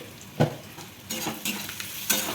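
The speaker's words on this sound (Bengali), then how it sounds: "পেঁয়াজটা দিয়ে একটু ভালো করে ভেজে নিতে হবে" Onions frying with turmeric powder in a pan, stirred with a utensil: a steady sizzle broken by a few scraping strokes and clanks of the spoon against the pan, close by with no talk.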